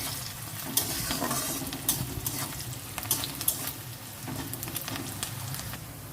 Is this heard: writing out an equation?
no